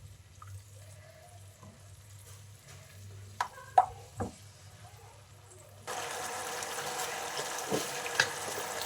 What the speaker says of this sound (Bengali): ভালো করে মিশিয়ে নেবো আর ভালো করে কষিয়ে নেবো, তেল ছাড়া অবধি অপেক্ষা করবো।